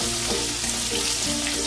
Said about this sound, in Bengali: গ্যাসের ফ্লেমটাকে আমি মিডিয়ামে দিয়ে রেখেছি যাতে আলুগুলো একটু সুন্দর করে ভাজা হয়